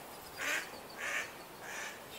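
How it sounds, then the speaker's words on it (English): Ducks quack three times at steady intervals from a moderate distance near a campsite on a Murray River trip, each call soft and nasal over a quiet outdoor background. "Ducks."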